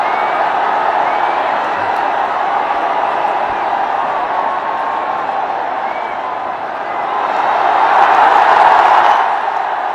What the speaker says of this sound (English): The crowd, there's crowd coming in.